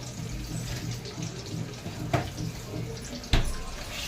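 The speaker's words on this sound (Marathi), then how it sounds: "आता आपण यात कोकम आगळ घालूया." Kokum agal, a sour kokum liquid, is poured into a thick prawn curry, giving a soft trickling splash with two sharper splashes, close and alone.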